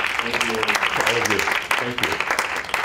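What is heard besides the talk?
applause for the speaker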